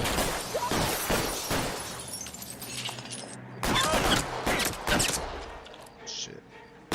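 Gunfire rings out in the L.A. Noire video game: sharp shots and rapid bursts in clusters, some with a shattering crack, separated by quieter stretches, loud and close.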